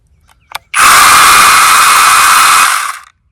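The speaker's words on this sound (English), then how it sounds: "for this chainsaw, you'll need to push the safety and the trigger" A cordless SeeSii pole saw chainsaw with a 6-inch blade whirs up after a small click, holding a loud, steady electric motor whine for about two seconds before spinning down, with no talking.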